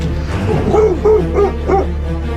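Dog in a basement giving short yelping barks and whimpers, four or five bursts in quick succession, close and fairly loud over a low steady rumble, with no talk.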